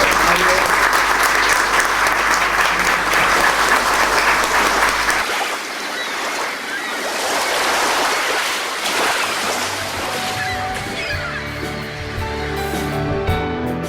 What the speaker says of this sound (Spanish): si no hay preguntas, un aplauso.